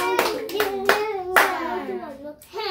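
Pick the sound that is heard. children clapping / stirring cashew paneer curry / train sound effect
children clapping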